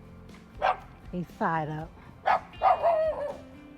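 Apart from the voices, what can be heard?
dog barking at campground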